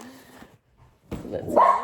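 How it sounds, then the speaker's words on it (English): Dogs bark loudly in a neighbourhood home, a short burst of sharp, excited barks in the second half after a near-silent pause, with a fainter bark or voice at the start. "the dogs, I don't know, they hear everything going on in the neighbourhood. and they got to have their 2 cents worth."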